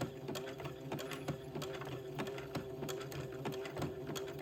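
Sewing machine zigzag stitching a fabric fold to entre-deux lace on a baby garment, a steady, fast rhythmic whirr of needle strokes running continuously at close range with no voices.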